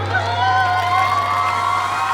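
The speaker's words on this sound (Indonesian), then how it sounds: "Tepuk tangan Tahiti." Crowd at a Gen Z celebrity quiz show cheers and whoops for team Tahiti, a steady, fairly loud wash of voices with a low hum underneath for about two seconds.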